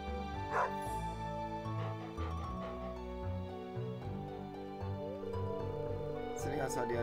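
A stray dog in a farming video game, sitting outside the farm entrance, gives repeated yips and barks over steady tonal game music, with a voice talking in the background.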